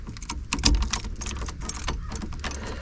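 Old keys jangle and rattle close by while being tried one after another on a 1980s Pontiac Trans Am parked for 34 years, a busy metallic clinking with one sharper burst early on and no talk.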